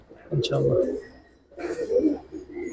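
Giribaz pigeons in a loft coo in low, soft, throaty bursts, close by and mixed with someone talking over them in two short spells.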